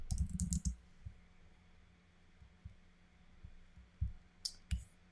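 Typing on a computer keyboard, a quick burst of clicks at the start, then scattered soft single taps and a few more short clicking flurries, close and fairly quiet.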